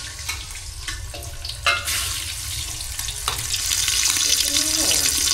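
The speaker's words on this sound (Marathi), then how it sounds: "आता अंडी सोड त्याच्यात." Eggs go into a hot pan for egg biryani and start frying with a loud, continuous sizzle, a few sharp clanks of utensils on the pan, and stirring that grows steadier toward the end.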